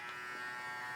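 A Philips Norelco OneBlade electric trimmer switched on and running, giving a steady, close, high-pitched buzzing whine with no variation and no talk.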